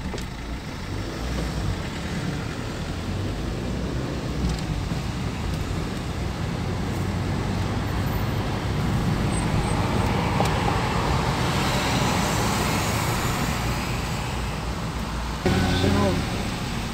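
Road traffic on a ring road in Isparta, Turkey, a steady continuous wash of passing cars and engine noise heard from inside or beside a moving vehicle, with a brief change near the end.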